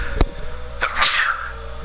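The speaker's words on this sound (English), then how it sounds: "Didn't mean to sneeze in your ear." A single sharp sneeze close to the microphone, preceded by a brief catch of breath, heard during play of the video game 428 Shibuya Scramble.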